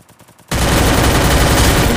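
A sudden burst of rapid automatic gunfire erupts in the Free Fire battle-royale game after a short stretch of softer pulsing sound, then stays loud and continuous to the end.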